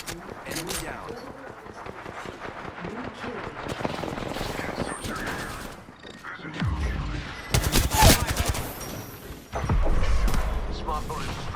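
Gunfire in the Apex Legends battle royale shooter, a loud burst of rapid shots with heavy thumping impacts around the middle and end, mixed with game voice lines and busy in-game effects.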